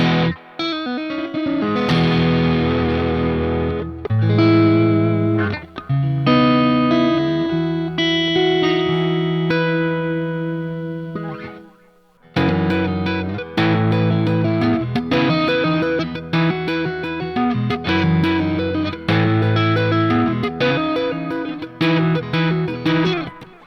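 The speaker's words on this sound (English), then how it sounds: "I forgot I put the reverb on this one. So you can still hear the delay on there as well." Electric guitar with a math rock and Midwest emo tone playing chords and melodic runs drenched in reverb and echoing delay, loud and sustained, briefly fading out before resuming.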